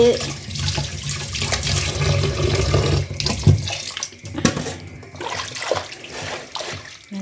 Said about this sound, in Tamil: நல்லா வாஷ் பண்ணுங்கள் அதில் இருக்கிறதெல்லாம் எடுக்கணும்